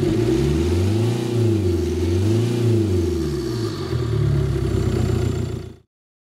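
A Hyundai i20 turbo engine fitted with a K&N air filter revs up and down repeatedly, rising and falling through several close, loud swells before cutting off abruptly.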